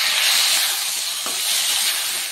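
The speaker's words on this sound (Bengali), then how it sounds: "আদাটা একটু ভেজে এবার টমেটো কুচি দিয়ে দিচ্ছি।" Chopped tomato hitting ginger paste frying in a pan, giving a loud, steady broadband sizzle and hiss that fills the whole stretch with no voices.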